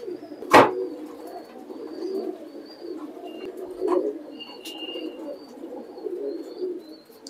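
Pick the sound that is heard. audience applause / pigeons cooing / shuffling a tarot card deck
pigeons cooing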